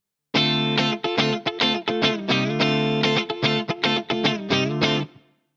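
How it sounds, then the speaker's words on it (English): SBS VS200 offset relic electric guitar with coil splitting engaged, played as a run of bright, choppy strummed chords through effects, loud and continuous for about five seconds before ringing out. "So the addition of coil splitting is definitely nice, and you can hear how nice and spanky it gets."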